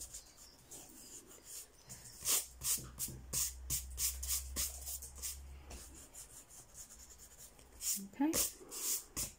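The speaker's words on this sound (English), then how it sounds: "you're going to rub the pencil marks out" A rubber eraser scrubs pencil marks off paper over biro ink in a series of quick, close, rhythmic rubbing strokes, fairly quiet and continuous, with a brief voice near the end.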